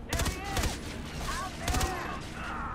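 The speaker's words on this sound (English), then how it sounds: "If you keep shooting me, I'll shoot back." Rapid gunfire bursts in a first-person shooter game, with loud clustered shots at the start and again partway through, and quieter mechanical clicks and effects in between.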